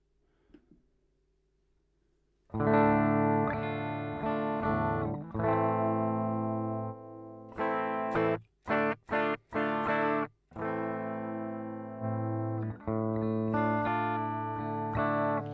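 Clean electric guitar chords played through a Fender Twin amp, sustained strums with a few quick choppy stabs in the middle, loud and close with no talking.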